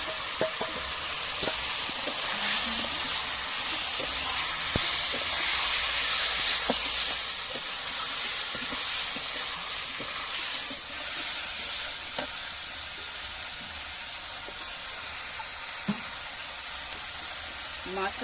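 Fish goes into hot spiced oil for a kuche fish curry, raising a loud, steady hissing sizzle that swells midway and then settles, with faint stirring knocks and scattered pops close by.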